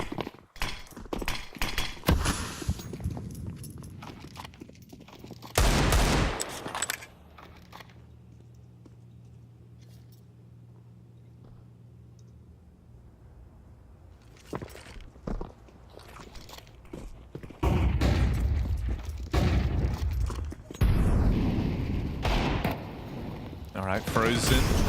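Pistol shots on an eco round with no armor in a Counter-Strike match at the BLAST.tv Austin Major, sharp cracks in quick bursts at the start and again near the end, mixed with a caster talking and a quiet lull between.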